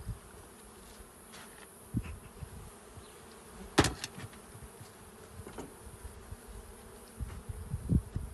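Honey bees hum around an open hive of 24 frames in Tekirdağ, a steady dense buzz broken by a few sharp knocks and clicks of handling.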